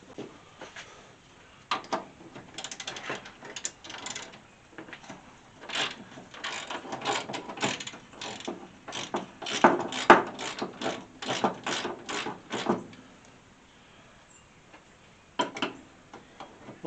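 A ratchet wrench works half-inch bolts off the front shocks of a 1964 Ford Falcon, rapid rhythmic clicking in long bursts with short pauses, close and clear, trailing off near the end with a final brief flurry.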